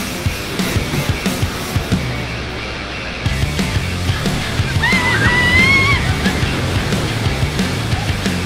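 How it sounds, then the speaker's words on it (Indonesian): Strong ocean waves slosh and wash against coral rocks on a shoreline, a steady loud rushing surge with a brief high whistling cry partway through. "Jadi lumayan deras ombaknya."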